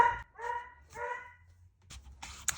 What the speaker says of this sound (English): I was so rudely interrupted by dogs barking